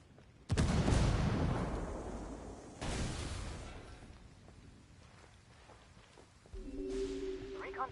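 A frag grenade detonating in Ghost Recon Wildlands gives a sudden loud, close boom with a rumbling tail, followed by a second, weaker blast a few seconds later and a humming tone near the end.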